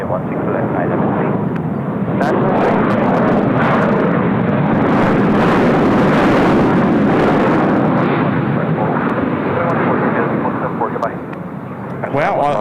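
An Asiana airliner taking off and climbing out at Incheon Airport, a loud, steady jet roar sustained for several seconds with faint voices and radio chatter mixed underneath.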